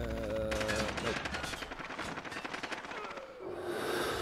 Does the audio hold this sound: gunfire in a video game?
yes